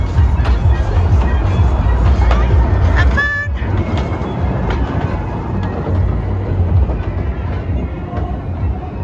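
A small funfair ride train rumbles and clatters along steadily, with a brief whistle-like toot partway through and faint background noise throughout.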